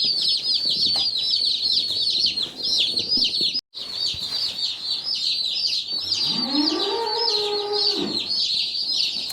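About 25 small baby chicks in a brooder peep constantly in a high-pitched chorus, close by, with a brief break and a louder clucking call midway.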